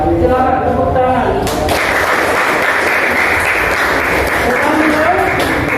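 A classroom of students applauds the second-place group, a loud dense burst of clapping that begins after a short spoken phrase and continues steadily to the end.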